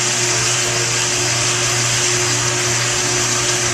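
A Cretors CMD 100 Caramelizer mixes caramel popcorn in an industrial setting, giving a loud, steady mechanical whir and hum with constant tonal drone and no pauses.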